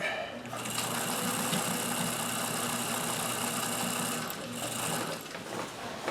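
A sturdy sewing machine stitches inside a jeans leg, a close, steady motor hum with a rapid needle rhythm that briefly dips near the end.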